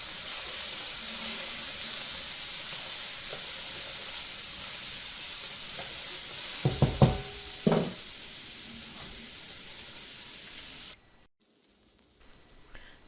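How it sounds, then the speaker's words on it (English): Steady sizzling of vegetables in a hot pan, with a few clattering stirs partway through before the frying sound cuts off near the end. "I'm going to stir the vegetables, and there's just this great sizzle that happens when I do."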